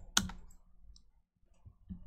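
A few sharp clicks from a computer mouse, one crisp click first and a couple of softer ones later, close up with quiet gaps between.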